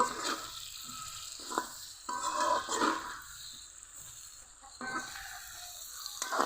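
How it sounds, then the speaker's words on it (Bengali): Shrimp and eggplant being sautéed with chili powder and green chilies, a steady sizzle with intermittent stirring scrapes and clinks, close and moderately loud, no voices. "এবার কিছুক্ষণ কষিয়ে নিব"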